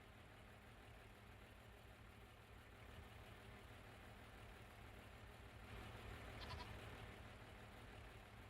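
A sheep bleats once in Farming Simulator 25, faint and short, over a steady low engine-like drone of the farm scene.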